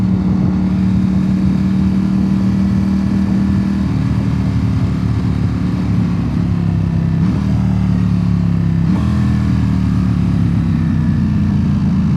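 A motorcycle engine drones steadily and loudly throughout, with occasional gear shifts as the ride continues.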